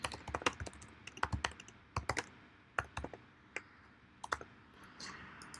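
Computer keyboard typing while writing a job description, quick irregular clusters of close, crisp keystrokes with short pauses and no talk.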